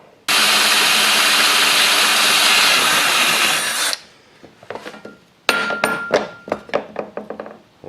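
A power drill bores into a mud flap mount on a truck, a loud, steady whine lasting nearly four seconds, then stopping, followed by a series of sharp knocks and clatters of parts being handled nearby.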